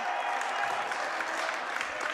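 A lively crowd applauds and cheers steadily at a high school boys basketball semi-final, a dense, continuous wash of clapping that holds at an even level throughout, with faint voices mixed in.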